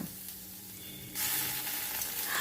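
Sliced onions browning in a pan with ginger paste, a soft frying hiss that suddenly swells into a brighter, louder sizzle partway through, close and with no talk.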